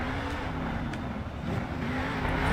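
Monster truck engine in the Monster Jam Steel Titans game, a steady loud drone of revving that rises slightly toward the end, with no talk over it.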